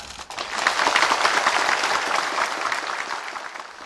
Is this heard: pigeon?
no